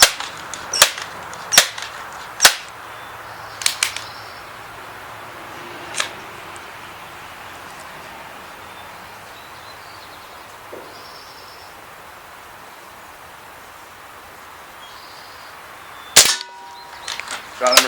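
Crosman M4-177 multi-pump .177 pellet air rifle firing, heard as several sharp, short cracks spread unevenly across a quiet outdoor background, with a couple of sharper clusters near the end.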